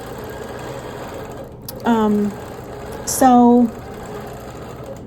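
A sewing machine quilting a quilt hums steadily in the background, then rises into two short, louder whirring runs a second apart, with a person speaking briefly.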